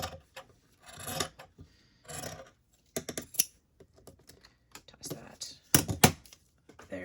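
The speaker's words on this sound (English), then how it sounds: "I am going to cut the edges off of here because that's going to add extra bulk" Scissors snipping the edges off a fabric tag in short bursts of crisp cutting and rustling, with brief pauses between strokes and no talk.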